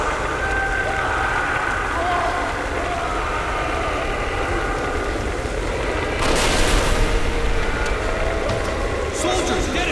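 Gunfire and explosive booms fill a battle scene in the video game Spec Ops: The Line, a dense loud roar with sharper bursts near the end and shouting voices mixed in.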